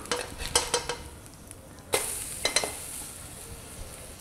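Dough frying in a hot pan is flipped over, with a steady soft sizzle and several sharp spatula clinks and scrapes against the pan, one louder turn near the middle.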